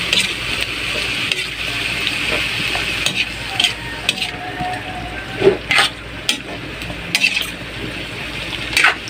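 Baguio beans sautéing in a home pan in the Philippines, with a steady close sizzle broken by repeated scraping and clinking stirs of a utensil against the pan, no talking.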